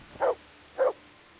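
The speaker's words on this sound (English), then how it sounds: "What is my dog howling at?" Two short, sharp dog barks spaced about half a second apart from the player's dog in Kingdom Come: Deliverance, fairly close and clear with no talk over them.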